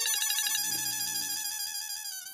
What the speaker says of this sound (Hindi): लो, दीदी का ही फोन आ गया